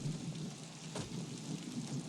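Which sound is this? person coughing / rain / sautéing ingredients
rain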